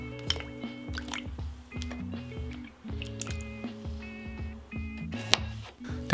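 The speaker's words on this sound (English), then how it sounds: "Once they're cut, drop them into a bowl of cold water to remove the excess starch." Cut potato pieces dropped into a bowl of cold water, giving a series of wet plops, drips and squishy splashes in an irregular rhythm, close and fairly quiet, with no talking.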